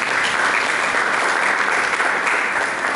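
A church congregation applauds in a dense, steady wash of many hands clapping at once, loud and sustained from start to finish with no pause.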